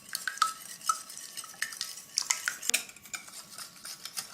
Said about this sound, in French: Et je vais venir fouetter l'ensemble.